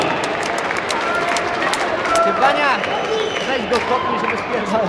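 An audience at a mixed martial arts fight night in Zgorzelec applauds and cheers continuously, with an announcer's voice speaking over the crowd noise.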